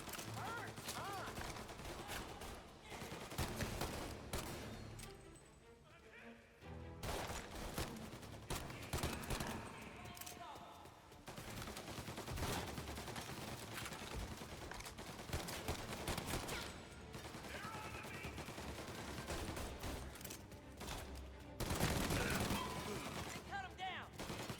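Rapid gunfire bursts and single shots crackle through a shootout in the game Mafia: Definitive Edition, dense and continuous with mechanical clatter, while voices shout intermittently in the mix.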